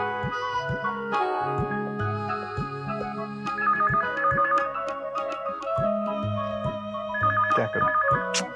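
Telephone ringing in a Hindi TV serial scene, a repeating electronic ring pattern recurring in short bursts over a steady background music bed, no talk.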